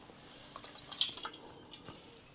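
Aloe vera gel being rinsed with fresh water, heard as soft, scattered drips and splashes of trickling water, fairly close and quiet, with a few brief louder splashes.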